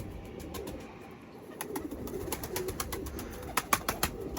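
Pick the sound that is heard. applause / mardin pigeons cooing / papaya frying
mardin pigeons cooing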